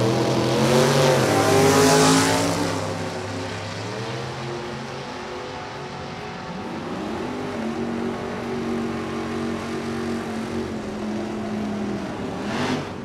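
A 505 cubic inch big-motored Chevy Nova SS at a drag race, its engine revving hard, then a second loud run with pitch rising through gears, crowd and track noise around it.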